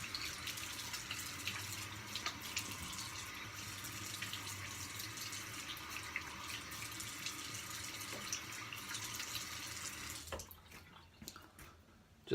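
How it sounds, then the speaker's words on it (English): Cold water runs steadily from a bathroom tap as a face is rinsed, a soft continuous splashing hiss close by that stops abruptly near the end. "Cold rinse the face."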